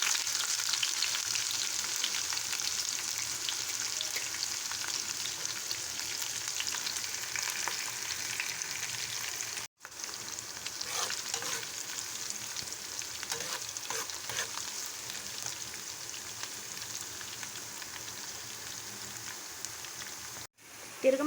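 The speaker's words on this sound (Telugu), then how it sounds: "నెక్స్ట్ మనం సన్నగా కట్ చేసుకున్న ఆనియన్ వేసుకొని ఫ్రై చేసుకోవాలి." Mustard seeds and thinly sliced onion fry in hot oil for a ridge gourd chutney, giving a continuous close hiss and crackle with faint stirring scrapes, broken by two brief silent gaps.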